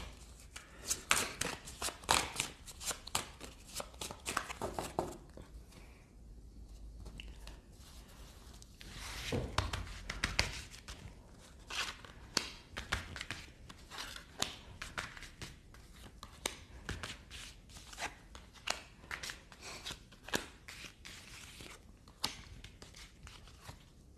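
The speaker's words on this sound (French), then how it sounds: "je vais donc battre les cartes et procéder au tirage pour déterminer donc les choix" A deck of tarot cards being shuffled by hand, a long run of soft close riffling, sliding and flicking card sounds with irregular bursts and brief lulls, fairly quiet with no talk.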